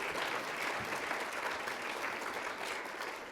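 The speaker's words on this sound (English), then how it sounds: "big round of applause for everybody" Steady round of audience applause at a welcome event for a museum gathering, continuous dense clapping heard from a distance at moderate volume, without speech over it.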